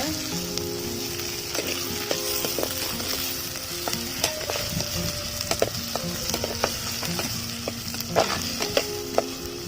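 Onions and tomatoes sauté in a clay pot for fish curry, a close bubbling sizzle with repeated wooden-spoon scrapes and knocks against the pot throughout.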